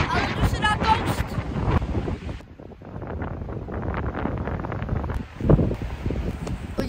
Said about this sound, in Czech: Je fakt brutálně fouká!